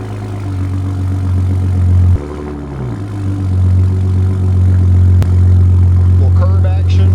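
A 2025 Ford Raptor truck in normal exhaust mode gives a steady, loud low engine drone with exhaust rumble, dipping briefly and then settling back, while a person talks over it.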